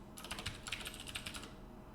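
Rapid computer keyboard typing during a programming session on compiler work, a quiet burst of close key clicks lasting about a second and a half over a low background hum, with no talking.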